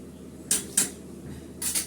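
A metal spoon scraping and knocking in a pot of meat seasoned with bay leaf and salt, three short clinking strokes that sound close and fairly quiet, with no talk.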